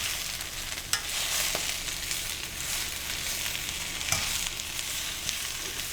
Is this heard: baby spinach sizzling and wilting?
yes